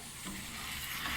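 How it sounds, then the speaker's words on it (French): Garlic, onion, parsley, eggplant and spices sizzle steadily in a pan, a close, continuous hiss with soft stirring and no talking. "j'ai envoyé mes aubergines, j'ai mis mes épices et là je laisse revenir tout ça"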